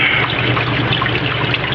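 Tap water flows steadily into a Haier HLP23E portable washing machine for the cold rinse cycle, a close, constant trickling gush with no voices.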